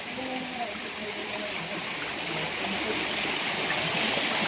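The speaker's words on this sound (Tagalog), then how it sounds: "So yan bukal lang yan dyan na nanggagaling dyan sa ano ni Mama Mary" Water from a natural spring beside a historical tunnel, fed into a bathing spot beneath a Mama Mary statue, flows and rushes steadily as an even, close hiss that runs unbroken the whole way through.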